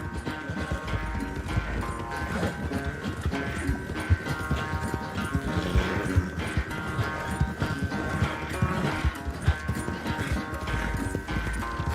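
Steady, rapid clip-clop of a galloping horse in Red Dead Redemption 2, loud and close, layered over a dense game soundtrack with a brief whinny.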